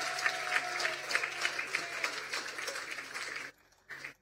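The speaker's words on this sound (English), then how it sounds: "a round of applause for his leadership" An audience applauds the Prime Minister at a housing initiatives presentation for Roseau South, giving a dense, steady round of clapping for about three and a half seconds, then a brief quieter burst of claps.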